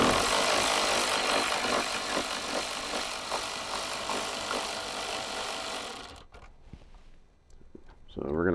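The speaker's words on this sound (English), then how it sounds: "So this is where we recommend using your 10mm with an extension. So we're going to go ahead and get those 4 bolts out" Ratcheting 10mm socket on an extension backing out the radio bolts in a Toyota Tundra dash, a dense, continuous close rasping run for about six seconds, then stopping, followed by light handling clicks and a brief rustle.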